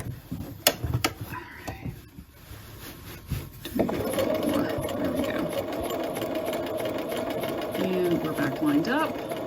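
Domestic sewing machine stitching a curved patch pocket for a Simplicity 8133 garment, a few stops and starts before settling at about four seconds into a steady, close, continuous whirring run.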